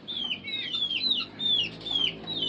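Backyard chickens cluck and squawk close by, a run of high, bending calls repeating every half second or so against a quiet outdoor background.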